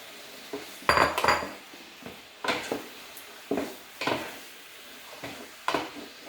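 Shiitake mushrooms going into a 14-inch Dash family-size electric skillet, with a series of clattering thuds and utensil scrapes against the pan at irregular intervals over a faint sizzle, close and without speech.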